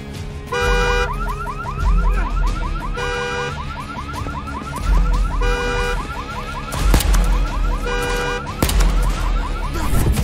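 Alarm blaring in Overkill's Walking Dead, a loud warbling siren in repeating bursts with gaps, over low rumbling game noise and thuds.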